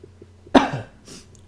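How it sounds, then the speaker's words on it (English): A single sharp, close cough from an adult man, loud and abrupt, followed by a brief softer breathy exhale in an otherwise quiet room. "I'm about to cough my head off"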